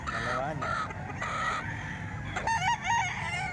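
A rooster crows several times close by, with hens clucking around it and a faint murmur in the background.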